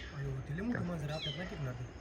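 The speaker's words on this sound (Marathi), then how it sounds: "मांजर वराटतंय" A small kitten meows in drawn-out, wavering cries, fairly faint, with a quiet voice talking in the background.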